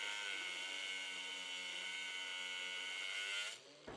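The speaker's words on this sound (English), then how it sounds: "I do some like crude cutting off with the angle grinder to get kind of rid of the corners" An angle grinder crudely cutting off metal corners, a steady high-pitched motor whine with a buzzing edge that runs at an even level and stops near the end.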